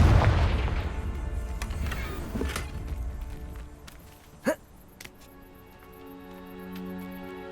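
A Confringo fire spell blast in the wizarding game Hogwarts Legacy: one sharp, loud burst in the middle of a quieter stretch of fading rumble, with faint lighter knocks around it and no talk.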